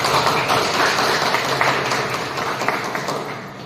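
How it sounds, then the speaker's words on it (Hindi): An audience claps for Krishna Sir at a health-plan meeting, with loud, dense applause from many hands that fades slightly toward the end. "अब तक के लिए कृष्णा सर के जोरदार ताली होना चाहिए"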